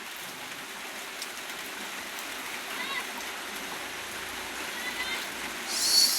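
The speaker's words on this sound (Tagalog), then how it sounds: "ikatatlong araw na po ang ulan ngayon" Steady heavy rain falls on the third straight day of downpour in the Agusan Marsh, a continuous broadband hiss of water with a few faint bird-like chirps and a brief louder splash near the end.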